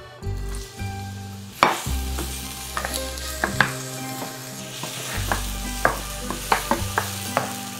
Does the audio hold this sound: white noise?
no